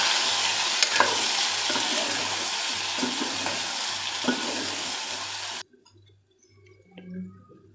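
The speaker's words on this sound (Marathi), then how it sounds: "इथं मसाला टाकला आणि इथं परतून घेते पहिले" Masala and brinjal sautéing in a pan, with dense close sizzling and a few spatula scrapes and knocks, then the frying cuts off to near silence with a faint thump and hum.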